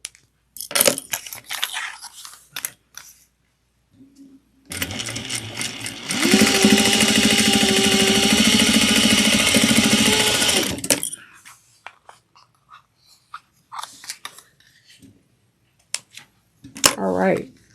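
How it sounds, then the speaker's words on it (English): A sewing machine stitches the seams of a mini holiday stocking at a quarter-inch seam allowance, a steady loud mechanical whir lasting several seconds, with handling clicks and a voice speaking before and after. "We're going to sew them out using a 1/4 of an inch seam allowance. Back stitch well at the beginning and end."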